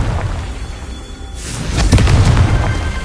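A Confringo blasting spell bursts in Hogwarts Legacy on PlayStation 4 Pro, a loud booming explosion rising after a quieter lead-in and rumbling on for over a second.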